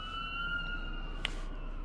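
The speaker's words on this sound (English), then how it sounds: "little ambulance round by." An ambulance siren sounds faintly in the distance, a thin steady wail drifting by under quiet background noise with a brief click partway through.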